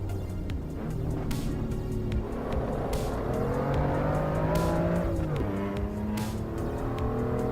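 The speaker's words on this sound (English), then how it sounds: "So we're driving the M2 now." A BMW M2 engine in a racing video game, played on a Moza R12 wheelbase, revving loudly and continuously through gear changes with rising and falling pitch and some tire squeal.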